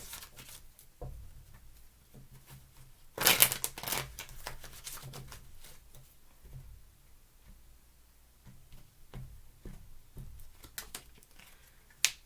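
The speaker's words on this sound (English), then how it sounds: "Two more shuffles, please." Tarot cards are handled and shuffled close by. Soft, light ticking and flicking runs throughout, with one brief louder burst early on.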